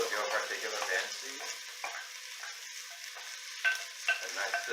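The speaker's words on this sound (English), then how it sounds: "A nice sizzling action right off the bat." Vegetables sizzle in olive oil in a stock pot, a soft, steady frying hiss broken by stirring scrapes and light clinks.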